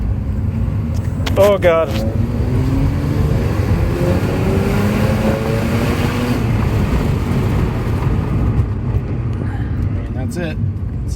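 A Mazda RX7 FD rotary engine revving on a dyno, a loud, steady droning roar that climbs in pitch and holds, with brief speech over it near the start and end.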